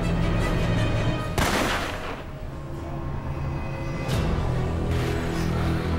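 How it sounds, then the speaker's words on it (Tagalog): A few loud, booming gunshots ring out over a steady rumbling background, spaced a few seconds apart with long echoing tails. "Baril yun ah!"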